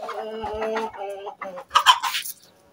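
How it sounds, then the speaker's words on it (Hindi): Hens and a rooster clucking close by in a farmyard, a run of repeated clucks followed by a louder, sharper squawking burst near the end. "यार मुर्गा भी इसके पास आ गया"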